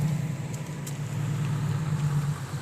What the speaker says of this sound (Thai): ดังแต่ท่อครับล้อไม่หมุน